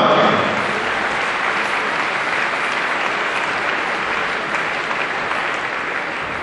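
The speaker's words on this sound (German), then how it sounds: "jetzt kriegen wir sicherlich hier einen Applaus für die deutschen Meister" Sustained applause from an indoor crowd at the German national badminton championships honoring the men's doubles champions, dense steady clapping throughout, loud and filling the space.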